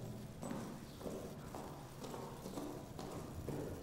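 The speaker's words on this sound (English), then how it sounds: "These are my footsteps." Footsteps in the video game Amnesia: The Bunker, a steady, moderately paced series of heavy steps on a hard floor under a dense, rumbling ambient background.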